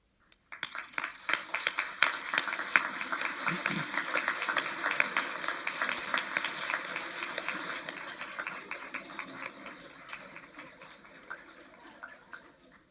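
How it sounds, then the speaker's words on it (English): At a veterinary school white coat ceremony, a seated audience breaks into sustained applause, starting abruptly and holding dense and even for over ten seconds before gradually thinning toward the end, with faint voices mixed underneath. "Let's stand and give a round of applause to those present and distant offering support to you as students"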